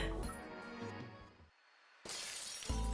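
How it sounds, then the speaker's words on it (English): A cup shatters in the Counterside video game, a sharp bright glassy crash followed by quieter tinkling, a short gap of near silence, then another loud burst and ringing fragments. "The cup just shattered on its own."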